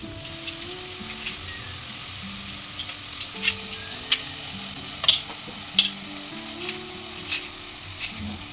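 Chopped onion fries steadily in a pan for chicken biryani, a soft continuous sizzle with scattered faint clicks and a few brief utensil taps, under a background of music.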